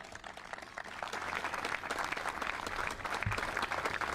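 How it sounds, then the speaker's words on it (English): An audience at the Illinois clean energy bill signing breaks into sustained applause, a dense wash of clapping that swells after the first second and carries on steadily. "it's okay to applaud for that."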